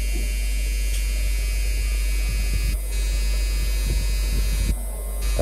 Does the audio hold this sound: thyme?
no